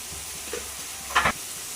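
Onion and tomato sautéing in a pan for wheat rava upma, with carrot, beans and rock salt added: a quiet, low sizzle broken by two brief spatula scrapes, the second a bit louder, with no talking.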